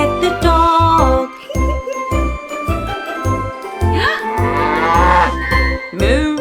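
Repeated cow moos in a steady rhythm within a toddler nursery rhyme song, loud and close with jingling bells and a singing voice that imitates the mooing.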